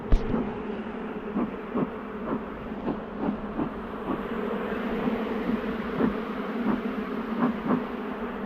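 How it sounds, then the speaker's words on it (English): Loud, continuous drone of a busy double-brood honeybee hive being split, with faint regular knocks or taps repeating underneath throughout. "This hive is roaring."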